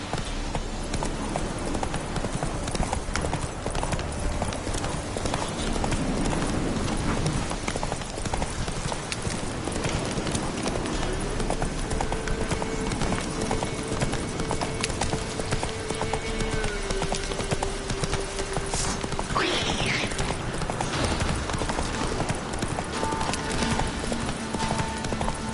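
Horse hooves clip-clopping in a fast, steady gallop rhythm in The Witcher 3 Wild Hunt, continuous and close, with game ambience and a brief whinny-like tone.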